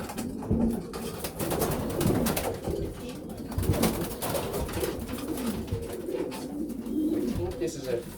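Racing pigeons, young birds bred for sprint and middle-distance racing, coo in a busy loft, with repeated low cooing mixed into dense noise and handling sounds, while someone talks over them.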